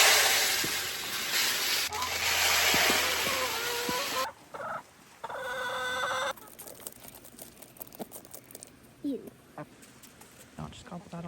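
Backyard homestead chickens clucking and gobbling over kitchen scraps, with a loud rustling, scraping burst first, then softer scattered bird calls and movement nearby, with occasional speech.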